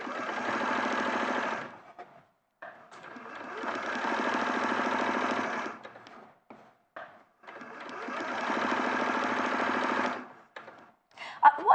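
A sewing machine stitching in three long steady runs of rapid mechanical whirring, each stopping cleanly, with short quiet gaps and small clicks between them.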